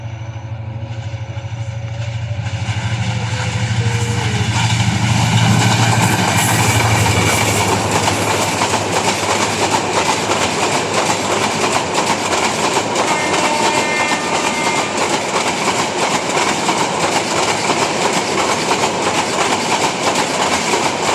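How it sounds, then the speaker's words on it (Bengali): The Upaban Express, an intercity passenger train running Sylhet to Dhaka, roars past at close range near Methikanda outer, Raipura, Narsingdi, with a loud steady rumble and rail clatter that builds quickly and holds for about twenty seconds. "ঢাকামুখী ডাইরেক্ট ট্রেন"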